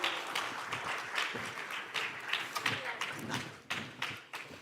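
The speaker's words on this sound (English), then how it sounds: "Big applause for this" Conference audience applause as speakers are welcomed onstage at a crypto event, uneven clapping with scattered close individual claps and thumps, moderately loud and continuous, with some voices mixed in.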